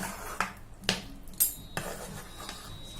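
A metal spoon stirs jaggery and ghee in a pan for kaju chikki, striking and scraping the metal in a few distinct clinks spaced about half a second apart, close by and otherwise quiet.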